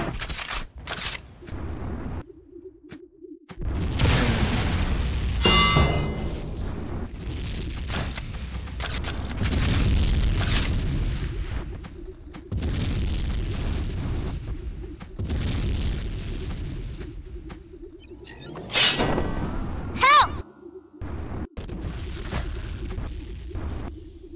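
Enemy generators blowing up in Tribes 2 during a capture-the-flag match on the Abaddon map, heavy booming blasts repeating over twenty-odd seconds amid rumbling game combat noise and bursts of weapon fire.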